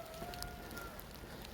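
Rain falling outdoors during a walk, a steady soft patter of drops with a few brighter nearby ticks, constant and moderately quiet with no talk.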